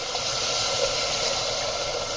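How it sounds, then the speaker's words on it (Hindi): Hot water pouring steadily into a pressure cooker holding chickpea biryani, a continuous broadband splashing rush at even loudness throughout, with no voices. "और ये मैंने गर्म पानी इसमें डाला है, क्योंकि हम लोग प्रेशर कुकर में जो है बिरयानी बना रहे हैं।"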